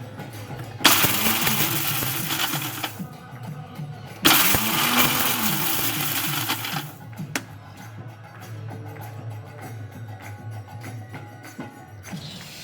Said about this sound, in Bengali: ব্লেন্ডারে ঢাকা দিয়ে দু থেকে তিনবার পালস মোডে রেখে ব্লেন্ড করে নিচ্ছি